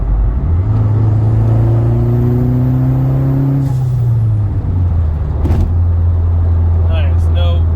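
Mazdaspeed 3 with a swapped-in 2.5 engine driving smoothly, steady engine drone rising and easing with gear changes, close and loud from inside the car, with a brief whir near the end.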